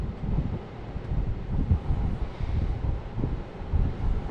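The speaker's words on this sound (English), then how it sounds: "Bit windy." Gusty wind buffets the microphone outdoors, a steady low rumble with repeated stronger gusts swelling and easing throughout, loud and close with no one speaking.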